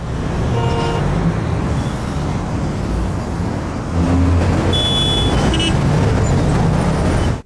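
Busy road traffic at congested roundabouts in Boa Vista: a steady wash of car, bus and truck engines with tyre roar, vehicles passing close and accelerating, continuous and fairly loud.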